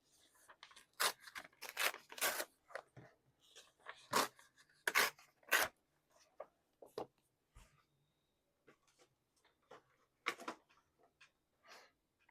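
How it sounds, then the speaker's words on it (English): Tim Holtz scissors snip and crunch through paper while a vampire-themed journal is made, giving a series of sharp close cuts in irregular bursts with pauses between them. "These scissors are amazing. These Tim Holtz scissors."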